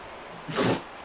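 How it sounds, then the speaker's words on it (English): A dog sneezes once, a short breathy burst close by that rises and falls within about half a second against quiet background. "My dog's sneezing."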